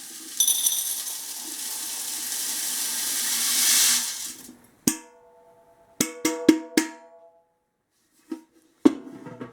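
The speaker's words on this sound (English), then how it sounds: "we're going to pour this silver and see how much we got in weight here in grams" Silver shot poured into a container on a scale, first a long rushing cascade of metal pellets, then a few separate bright metallic clinks and rattles as the last pieces drop in.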